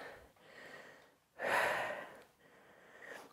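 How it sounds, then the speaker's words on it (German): Heavy breathing during a bodyweight workout: a few soft breaths, then one loud, forceful exhale up close, followed by quieter panting. "Muss ganz schön schnaufen."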